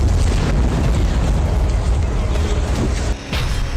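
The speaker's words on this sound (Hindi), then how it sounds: "रूस के 8 Tu-95 बॉम्बर्स ने यूक्रेन के कई शहरों पर मिसाइल और बम हमले किए।" Missile and bomb strikes on Ukrainian cities produce a continuous, loud, rumbling roar of explosions with heavy low booms, briefly dipping near the end before surging again.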